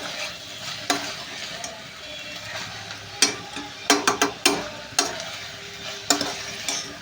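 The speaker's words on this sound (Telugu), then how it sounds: "ఆ చిక్కుడుకాయలు కూడా బాగా ఫ్రై చేస్తున్నాను." Broad beans frying with onions in a steel pan: a steady low sizzle broken by repeated sharp metallic scrapes and taps from stirring, some coming in quick clusters, close and without speech.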